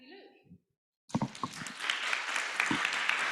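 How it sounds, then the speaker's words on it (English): An audience at a talk breaks into applause: after a brief voice and a short silence, clapping starts suddenly and builds into a dense, steady round that continues to the end. "You've still got a bit of energy left for applauding."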